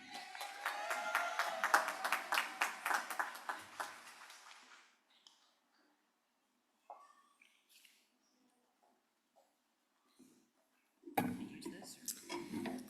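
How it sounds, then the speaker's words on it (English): Applause for master's degree graduates at the Elizabethtown College commencement, a dense round of clapping from a large crowd that swells over the first few seconds, fades out, and picks up again near the end after a quiet gap. "Please let's have another round of applause for our master's degree graduates from Elizabethtown College"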